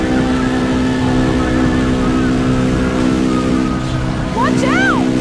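Car engine in the 2008 video game Alone In The Dark, a steady droning motor hum with strong harmonic tones that holds throughout, rising into a brief rev near the end, with voices talking over it.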